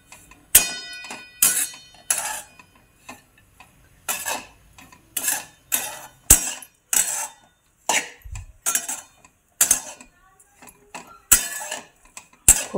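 Grated dry coconut is dry-roasted in a pan for Diwali karanji filling, stirred with a metal spoon that scrapes and clinks against the pan in a steady, close rhythm of short strokes, with no voices.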